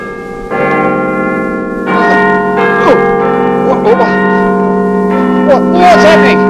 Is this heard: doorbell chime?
yes